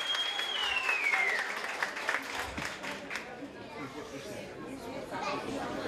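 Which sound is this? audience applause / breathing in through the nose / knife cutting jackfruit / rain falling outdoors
audience applause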